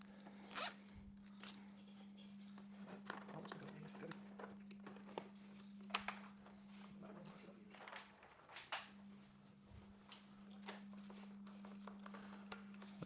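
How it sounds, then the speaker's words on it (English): Zip ties ratcheted tight on a Harley CVO Road Glide wiring harness during headlight and fairing reinstall, giving a string of quick close zipping rasps and clicks over a steady low hum. "Zip tie. So as we pull these,"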